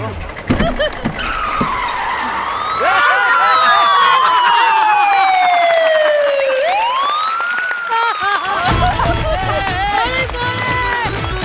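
An ambulance siren in a stage comedy sketch blares loudly, long sweeping wails gliding down and then back up, mixed with other noisy action throughout.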